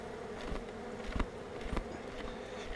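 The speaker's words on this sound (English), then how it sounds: "I think I'm going to shake these bees off" Honeybees buzz steadily up close while frames are handled in cold weather, a dense droning hum with a few louder passes as individual bees fly near.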